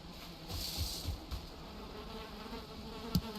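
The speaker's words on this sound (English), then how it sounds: "Make sure my bees are all happy." Bees buzz around beehives in the video game Valheim, a continuous close insect drone with a few soft clicks, no voices.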